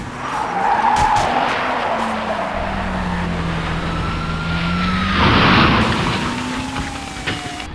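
A recreated car speeding away frantically, tires skidding and squealing loudly over a revving engine, the screech rising and falling in two long swells with a sweeping motor tone.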